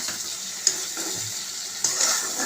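Spice masala fries in oil in a pan, giving a steady, close hiss and sizzle with a couple of brief sharp spatters and no talking.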